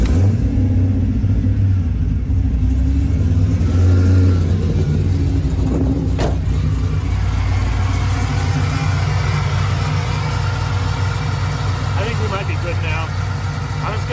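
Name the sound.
Camaro forged 6.0 engine running and revving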